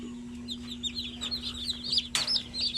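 Chicks chirp busily and chickens cluck at a poultry farm, with high peeps overlapping through the short stretch over a low steady hum and one louder burst near the end.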